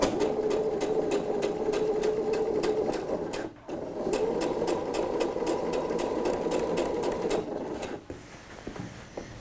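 A sewing machine runs fast and steady, stitching the seam of lined shorts with a dense rapid rhythmic whir, pausing briefly twice before carrying on, close and loud with no speech.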